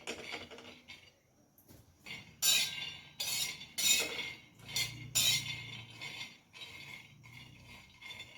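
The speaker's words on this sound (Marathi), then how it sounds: "त्यात आपण हे शेंगदाणे घालून घ्यायचे आणि छानपैकी भाजून घ्यायचे" Dry peanuts rattle and scrape against a hot pan over medium heat in uneven bursts of stirring, close by and fairly loud, with no voices.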